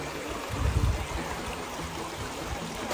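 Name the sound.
mountain stream flowing over large rocks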